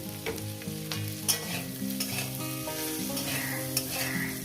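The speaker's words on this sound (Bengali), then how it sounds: "এবার এটাকে শুধু ভাজবো" Onions sizzle steadily in a pan with salt and turmeric while being stirred, with occasional scraping clicks from the spatula. Soft background music plays throughout.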